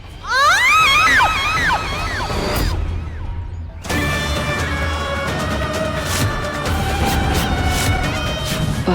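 A woman's high, wavering scream in a Hindi TV drama rises and falls for about two seconds, cuts off, then gives way to loud dramatic background music with sustained tones.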